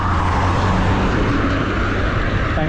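A car overtakes a cyclist from behind on a country road near Kings Cliffe, a steady broadband road roar sustained throughout with wind noise, no clear peak.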